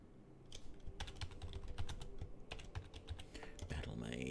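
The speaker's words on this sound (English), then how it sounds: "Starts typing and then nothing happens." Rapid, uneven keystrokes on a computer keyboard while a save name is entered during Baldur's Gate III play, the close clicks running steadily over a low background of game music and ambience.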